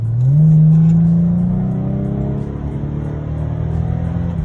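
An Infiniti G37 S car drives along a road in D mode, its engine note rising smoothly in pitch as it accelerates and then holding at a steady hum. The engine sounds close and fairly loud, with no voices.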